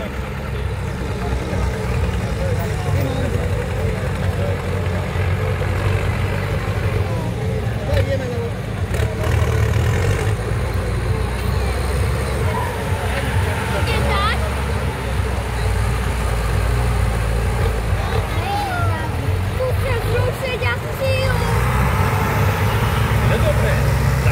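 A small homemade tractor called Majorík, numbered 77, drives along a competition track, its engine droning steadily at medium pitch under ongoing talk and background voices.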